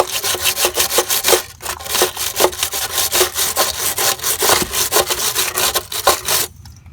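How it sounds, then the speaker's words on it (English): A wire brush scrubs loose flaky rust off a car chassis during undersealing, a loud, close, rhythmic back-and-forth rasping in rapid repeated strokes with brief pauses. "get as much off with the wire brush as I can"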